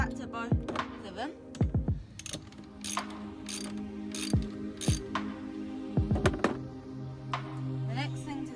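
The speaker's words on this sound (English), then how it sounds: "untighten the nut which holds them on, and do that to both of them" A ratchet wrench loosens the nut holding a Subaru Outback wiper arm, giving close, repeated clicking strokes in uneven bursts. A voice is heard briefly in between.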